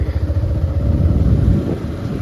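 A motorcycle engine thrums loud and close while being ridden through a village area, a steady low throbbing drone with slight rhythmic pulsing and no voices.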